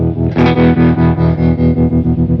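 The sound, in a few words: guitar tremolo effect pedal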